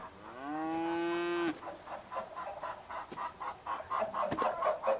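A cow moos in a horror video game demo: one long, loud, sustained moo, followed by a string of quieter clucking bursts from nearby fowl.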